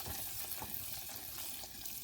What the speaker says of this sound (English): Now that your brown sugar and butter mixture is boiling